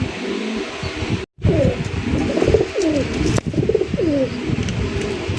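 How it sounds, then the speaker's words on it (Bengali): Domestic Rajgolla pigeons with crests coo close by, several repeated rolling coos following one another, with faint chirps and market background noise. "দেশীয় রাজগোল্লা কবুতর দুইটা কিন্তু ঝুটিওয়ালা"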